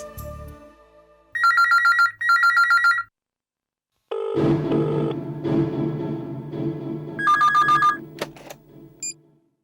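Electronic telephone ringtone in a home, several bursts of repeated trilling rings, clear and fairly loud, with a gap of rumbling background noise between them before ringing resumes.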